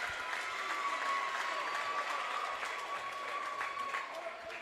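Fans at a high school boys basketball game, East Carter's final home game, stand and applaud in a sustained, even roar of clapping and crowd noise that fills the gym and carries from below.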